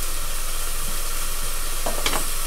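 Continuous sizzling of minced meat frying in a hot pan, with a few soft scraping stirs near the end.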